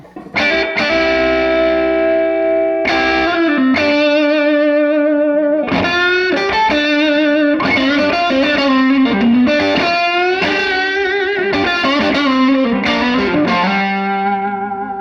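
Electric guitar on the neck pickup, played through a Hudson Sidecar germanium overdrive pedal with the drive turned up into a cranked AC30 amp, gives loud, sustained, harmonically rich overdriven chords and notes that ring continuously with no talking.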